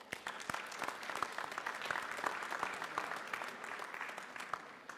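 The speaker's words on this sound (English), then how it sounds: "I believe Professor Ramphel deserves another round of applause." An audience at a university autumn graduation ceremony claps for a professor, sustained moderately dense applause with individual hand claps standing out, heard from a distance and fairly soft.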